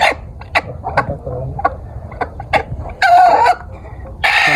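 Tiger chickens and local hens kept together in one coop cluck and squawk in short irregular bursts, with a couple of louder, longer calls near the end, fairly close and without talk.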